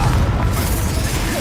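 A Confringo fire spell bursts in Hogwarts Legacy, a loud low-end boom that rolls on through the whole short moment amid dense battle noise.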